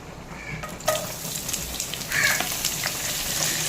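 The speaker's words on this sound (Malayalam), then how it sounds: "സവാള വറുക്കാൻ ലേശം വെളിച്ചെണ്ണ ഒഴിച്ചോ." Sliced onions fry in a little coconut oil in a cooking pan, a soft continuous sizzle with a few brief clinks and stirring sounds over it.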